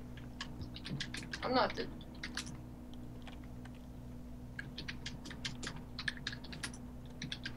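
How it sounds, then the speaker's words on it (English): Keyboard typing on a computer in rapid, irregular clicks, moderately close, with a steady low hum beneath and a voice speaking briefly near the start. "I'm typing."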